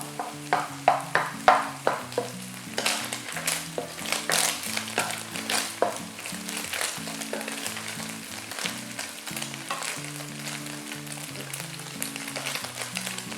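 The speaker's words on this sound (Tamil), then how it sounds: "இப்போ இதை நல்லா ரோஸ்ட் பண்ண விட போகிறேன்" Egg and rice roasting in a pan for roadside chicken fried rice: a crackling sizzle with sharp, repeated scrapes of a ladle, louder at first, then a steadier fry over a low musical drone.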